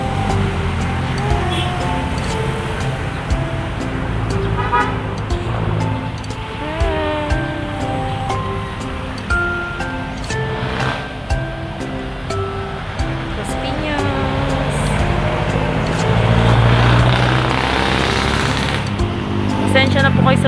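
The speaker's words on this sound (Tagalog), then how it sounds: "Pasensya na po kayo sa tunog ng mga sasakyan." Steady traffic rumble from passing cars near a botanical garden, a continuous broadband roar under ongoing talk throughout.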